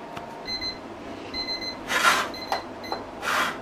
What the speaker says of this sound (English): And I'll set the timer for about 2 minutes.